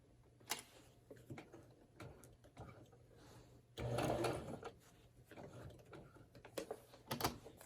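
A sewing machine stitches fabric in short bursts, with a longer loud run in the middle, mechanical clicks and handling knocks between runs, and no talk.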